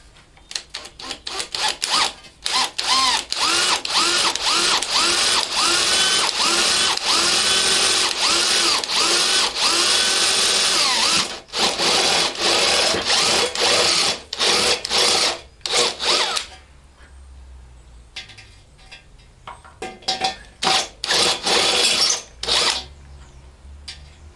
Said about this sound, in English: We'll get them marked up and drilled